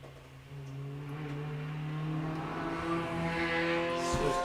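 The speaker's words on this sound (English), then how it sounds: "Now that's late braking there, David Patterson into infield hairpin." A sprint race car on the Golspie Littleferry layout drones steadily, its engine pitch shifting as it comes off speed into an infield hairpin, heard at moderate distance with no talk.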